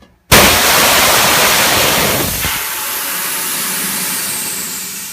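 Pressurized nitrogen bursts out of a pneumatic cylinder fill clamp with a sudden loud hiss after silence, then keeps rushing as a strong, steady blast that eases off slightly toward the end.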